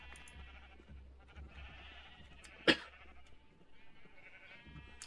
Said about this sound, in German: hier unten sind die ganzen Schafe, oben sind die Kühe